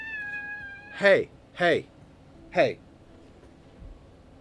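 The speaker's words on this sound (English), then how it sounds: "He's a cranky kitty." A cranky house cat meows three times in close, fairly loud bursts, with short pauses between the calls and a brief spoken word just before them.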